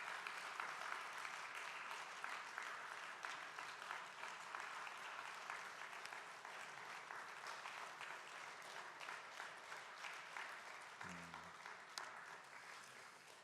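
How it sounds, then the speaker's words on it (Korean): A church congregation applauds children after an infant baptism during a Sunday service, a steady, dense, moderately distant patter of clapping that continues evenly throughout. "박수로 여러분 축복해 주셨으면 좋겠습니다"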